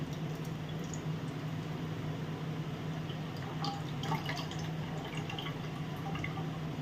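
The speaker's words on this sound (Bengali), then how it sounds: "দুধটা কেটে দেখো আমি ঢেলে নিচ্ছি।" Milk pours into a pot in a home kitchen, making a soft, steady trickle with scattered drips at low volume and no speech.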